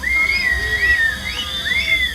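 A crowd of protesters whistles continuously at an official speaking at the Istres sub-prefecture, shrill wavering whistles overlapping loudly over a murmuring, rumbling background.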